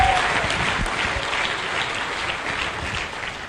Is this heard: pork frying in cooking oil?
no